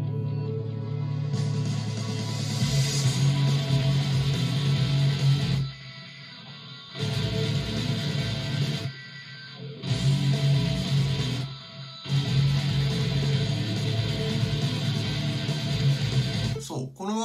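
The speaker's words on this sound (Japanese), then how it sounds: "ワウギターがちょっと後ろで鳴ってるんですね。" A wah-wah guitar sits in the background of a song, under a full band mix that drops out in short gaps and comes back, with the wah sweeping behind the other parts.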